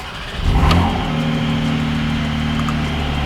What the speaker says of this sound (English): You gotta do everything to be able to hear the exhaust when it first starts up